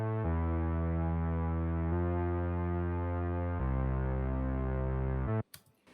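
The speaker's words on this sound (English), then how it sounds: "It's a Reese bass, and it sounds something like this." A Reese bass patch from the Vital synth, a deep, thick sustained tone shifting through three held notes with a throbbing buzz, loud and alone before cutting off abruptly.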